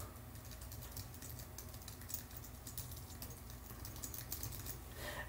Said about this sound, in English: You can type in your full address